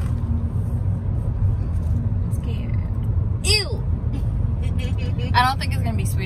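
A car drives along a road, heard from inside as a steady low rumble and engine drone throughout, with occasional brief voices over it.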